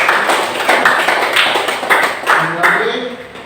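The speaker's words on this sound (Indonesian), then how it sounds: "tepuk tangan buat kalian" Students in a classroom clap together in a quick, uneven patter of many hands, loud and close, fading slightly as a voice begins speaking near the end.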